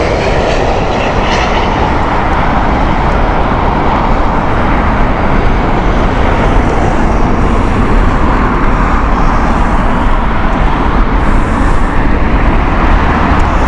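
A British Airways Boeing 787 arriving at Heathrow Airport on a windy morning: a loud, steady broadband jet roar that holds for the whole stretch, with wind and distant road traffic mixed in and no voices.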